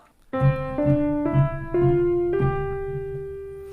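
Five piano notes climb gently upward one small step at a time over a sustained low accompaniment, the last note ringing out and fading.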